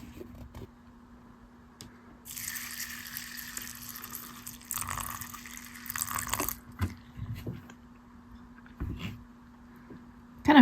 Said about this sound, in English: And we're going to add our water.